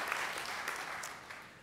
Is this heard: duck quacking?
no